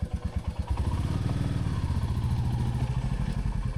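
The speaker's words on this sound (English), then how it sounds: "you can have your motorcycle in gear and start your bike" Motorcycle engine running in second gear with the clutch held, a steady close mid-pitched rumble that starts as a choppy lumpy beat and smooths into continuous running throughout.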